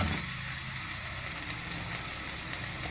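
Ground spices with ginger-garlic paste, chili, turmeric and coriander sizzle steadily in a pan for ol chingri (yam with prawns), making a continuous close frying hiss with faint stirring.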